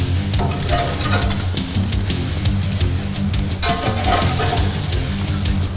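Fish soup cooks on a grill with a dense, continuous sizzle and steady bubbling crackle, close and unbroken, with no voices.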